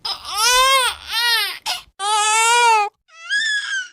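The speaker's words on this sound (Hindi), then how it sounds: "किसी सियार के बच्चे की रोने की आवाज सुनाई दी।" High-pitched wailing cries from a jackal cub, four drawn-out whining calls with short gaps, close and clear against silence.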